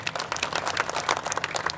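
An audience at a Hindi poetry gathering (kavi sammelan) claps steadily, a dense even patter of many hands with no voices over it.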